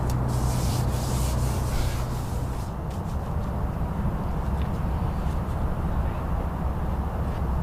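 Sanding filler on a catamaran rudder gives a steady, continuous abrasive rubbing, close and fairly loud, with a constant low hum beneath it and no pauses.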